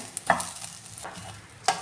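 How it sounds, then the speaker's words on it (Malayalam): Rice fries in ghee in a pan over a medium flame while a spoon stirs it. A few sharp scrapes and clinks stand over a faint, quiet sizzle, with no talk. "ഈ റൈസ് നെയ്യിലൊന്ന് വറുത്തെടുക്കാൻ ഇതിൻ്റെ ഫ്ലെയിം മീഡിയം ഫ്ലെയിമിലാക്കിയിരിക്കുകയാണ്"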